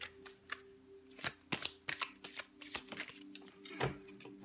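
Tarot cards are shuffled and cut by hand, giving a quiet, close run of crisp riffles and soft slaps in an irregular rhythm over a faint steady hum.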